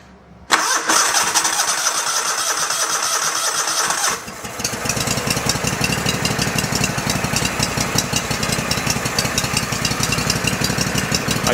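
A small engine on a Go-For digger, found at an estate sale, cranks and catches, then runs loud and close with a rapid, steady chugging idle and no talk.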